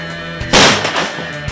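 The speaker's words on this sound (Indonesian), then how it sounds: "saat dibuka ini, gas yang terkumpul akan meledak dan membuat beras-beras di dalam meloncat keluar" A traditional rice-puffing cannon bursts open with a single loud, sharp boom, and a rush of puffed rice sprays out over a low rumbling background.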